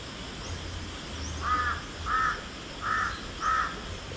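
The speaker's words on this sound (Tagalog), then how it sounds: "Uwak natin, oh." Four crow caws in a steady, evenly spaced series, clear and moderately near over a quiet outdoor background with low rumble, on a farm where water buffalo are kept.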